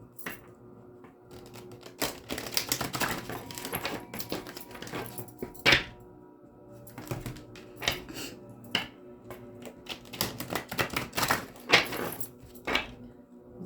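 Repeated crisp riffling and slapping of tarot cards being shuffled, in uneven bursts with short pauses between, close and fairly quiet.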